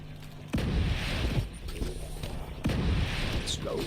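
Mortar fire booms in a video game, two heavy blasts about two seconds apart, each with a rumbling tail, loud and close over game noise.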